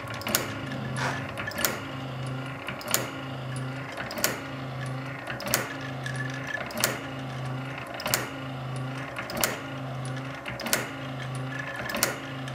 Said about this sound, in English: Yeah, that gear motor is really nice. Smooth operation.